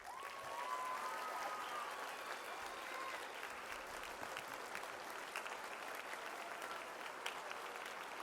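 Crowd applause after a speech rolls on steadily at a distance, soft and even throughout, with a faint tone threading through the clapping early on.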